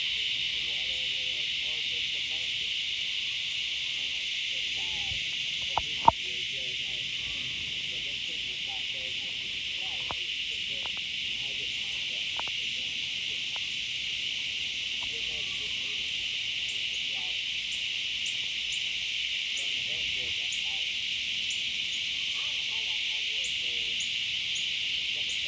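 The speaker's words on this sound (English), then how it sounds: "nobody can hear because our ears are ringing from the cicadas." Loud cicadas buzz in one continuous, high, piercing drone that never pauses, with faint rustles and a few soft knocks underneath.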